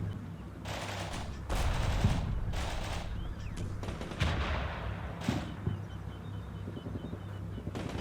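Artillery fire in the Cold War video game Combat Mission makes a series of heavy booming blasts, roughly six separated impacts over a low rumbling background, some sharp and some muffled.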